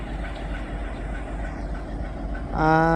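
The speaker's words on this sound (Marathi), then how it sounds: "ही आत्ताच गाडी बीडवरून इगनवाडी रेल्वे स्टेशनवर आलेली आहे बघा" A train arriving at Iganwadi railway station from Beed rumbles in a steady, loud roll, then a sharp horn blast cuts in right at the end.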